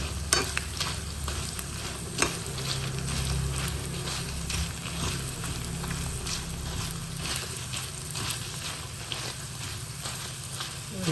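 Chillies crackle and fry in oil over a low gas flame, a steady close sizzle with occasional stirring scrapes running throughout, no voices.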